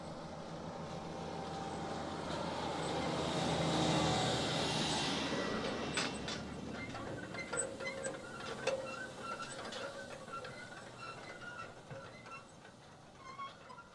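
A tractor rig places fertilizer at depth in strips in a field, a continuous mechanical rumble and rattle that swells loud then eases into steadier clanking and clicking.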